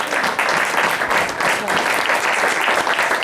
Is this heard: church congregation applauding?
yes